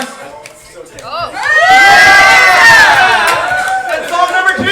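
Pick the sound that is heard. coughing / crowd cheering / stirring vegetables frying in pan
crowd cheering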